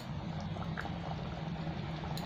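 Soybean kofta curry boiling in a pot: a continuous low, dense bubbling with scattered faint pops, close and steady throughout.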